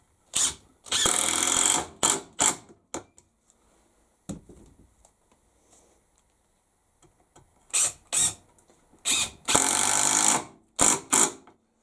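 Power drill driving screws into pine: short whirring bursts in two clusters separated by a quiet gap with a single click, each burst loud and close, no voices.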